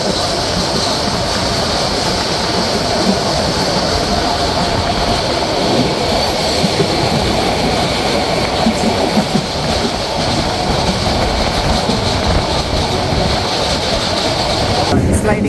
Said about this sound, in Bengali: আর ট্রেনটি এখন দ্রুপাস যাচ্ছে ময়নামতি।